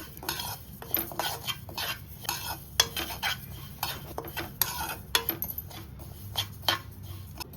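Cumin and mustard seeds dry-roasting in a pan while a utensil stirs them, giving a steady run of scraping, rattling strokes and light metallic clinks, close up, with a faint sizzle underneath and no one talking.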